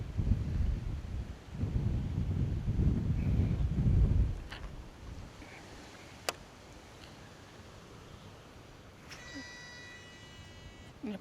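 Strong wind gusts outdoors at a fishing spot near Phnom Krom, Siem Reap, rumbling heavily against the microphone for about four seconds before easing into a quieter, steady breeze with a few faint ticks.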